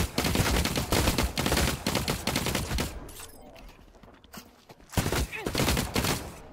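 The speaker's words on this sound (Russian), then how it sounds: "Стреляю мобов, которые у тебя в упоре." Rapid gunfire in the Cycle Frontier video game as creatures are shot, dense loud volleys filling the first three seconds, a lull, then another close burst near the end.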